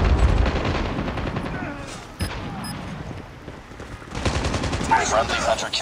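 Gunfire in the Call of Duty Mobile shooter game, with loud dense bursts and shots running through the whole stretch and a sharp crack near the middle, set against busy game effects.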